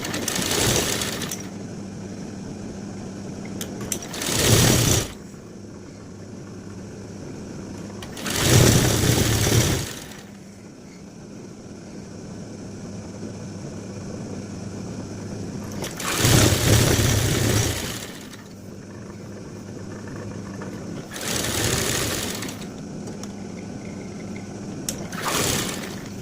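A sewing machine stitches lace onto pant panels in four separate bursts of rapid, loud, close needle chatter, each a few seconds long, with quieter handling noise between them.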